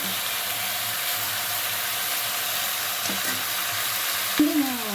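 Tomato pieces fry in a pan for mutton dry curry, a steady broadband sizzle running throughout with no pauses, close and fairly loud, ending with a brief utensil knock.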